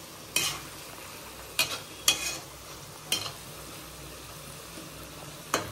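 Ingredients for mutton biryani fry in a pan with a low, steady sizzle, while a spoon knocks and scrapes against the pan a few times at irregular intervals, close up.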